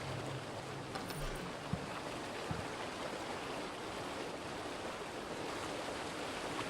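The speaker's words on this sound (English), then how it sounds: "Why does it sound like I'm next to a waterfall?" A waterfall roars in the video game Arcane Odyssey, a dense, steady rush of falling water that fills the whole stretch at constant loudness, with a couple of faint thumps.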